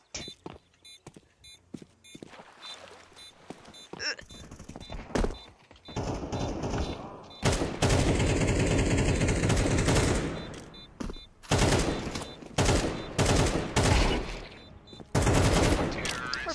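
AK rifle fire in Counter-Strike 2: rapid bursts and sustained automatic strings, loud and close, mixed with footsteps and other gunfire in the background.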